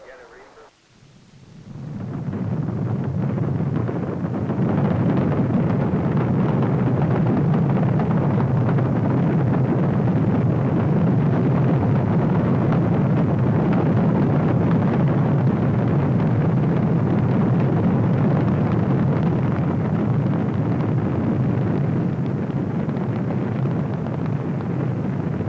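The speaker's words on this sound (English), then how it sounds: "The liftoff had been perfect." Apollo 16 launch vehicle lifting off, a sustained, heavy low roar that swells within the first two seconds and holds steady and dense for the rest of the stretch, broad rumbling noise with no break.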